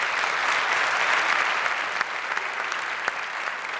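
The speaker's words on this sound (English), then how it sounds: "Let's give them all a big round of applause." An audience at a swearing-in ceremony for elected officials in a convention center claps steadily, a dense, even wash of applause that thins slightly toward the end.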